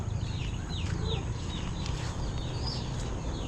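Chickens and newly hatched chicks cheep and chirp in a steady scattering of short high peeps over a constant low background rumble, faint and close.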